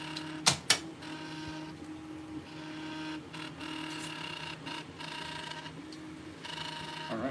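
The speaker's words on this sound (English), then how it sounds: "They're printing." A Prusa 3D printer prints a red stand, giving a steady mechanical whir with stepper-motor tones and faint ratcheting, two sharp clicks near the start, running alone throughout.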